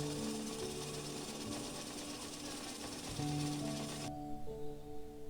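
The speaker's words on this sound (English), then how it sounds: "Here you will see drilling of face holes used for solid blasting." A loud mechanical drill bores face holes for blasting in an underground coal mine, grinding and rattling continuously with a droning motor hum, then cuts off abruptly, leaving a lower engine drone.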